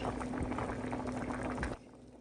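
A pot of vegetables and potatoes simmers on the stove, giving a soft continuous bubbling and low hiss for about two seconds before it drops away to quiet room tone.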